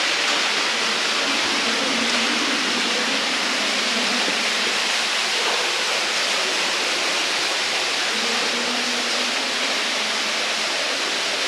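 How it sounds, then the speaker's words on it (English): A waterfall roars inside a cavern about 130 feet underground, a loud, dense, constant rush of water that fills the space with no breaks and no talking. "we'll be coming up on a waterfall in just a moment"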